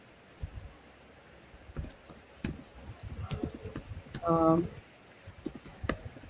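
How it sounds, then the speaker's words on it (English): Loud computer keyboard typing during an online call, a quick patter of key clicks throughout, close to the microphone, with a brief spoken utterance mixed in. "Your keyboard is very loud."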